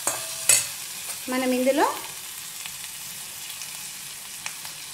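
Spinach and tomato dal with tamarind juice sizzles and is stirred in a pan, giving a soft frying hiss with a brief scrape of the spoon, while someone speaks briefly over it.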